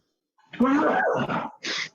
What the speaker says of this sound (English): Sorry, sneezing jag.